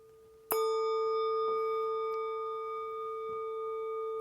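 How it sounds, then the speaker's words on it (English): A single meditation bell is struck once, its clear resonant tone ringing out with steady overtones and slowly fading into quiet. "If you hear the sound of the bell, allow the sounds to fade."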